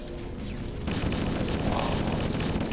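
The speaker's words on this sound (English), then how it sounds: "throw a grenade down here" Grenade explosion in Halo: Combat Evolved: after a short lull of ambient game noise, a sudden loud blast erupts and rolls on as a sustained, rumbling boom.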